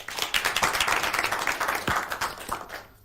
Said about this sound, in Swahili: Makofi kabisa.